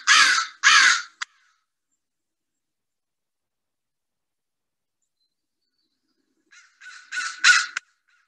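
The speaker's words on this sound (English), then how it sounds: "And then we have the American crow itself. Let's hear a sample of what crows say." American crow calls: two loud, harsh caws close together, a brief click, then after a long silence a rapid cluster of three or four caws, near and clear with no other sound.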